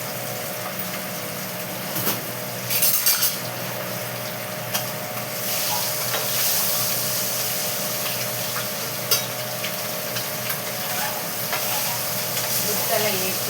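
Eggs fry in a hot pan with a steady, bright sizzle that runs throughout, broken by a few louder crackles and spatters, and there is occasional scraping from stirring.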